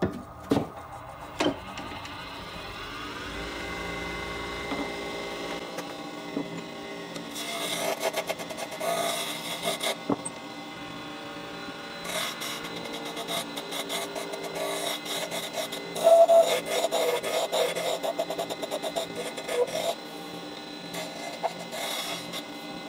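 Scraping, rasping cut of a carbide circle cutter shaping a pen blank on a spinning lathe, a steady close rub with brief louder bursts, no talk.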